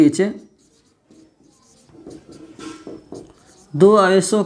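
Marker or chalk scratching out a point on a board during a physics lecture, short strokes in quiet gaps between a teacher's speech.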